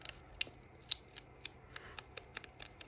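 Paper being cut with scissors for a junk-journal pocket book, giving quick repeated sharp snips in an irregular run, close to the microphone in a quiet room.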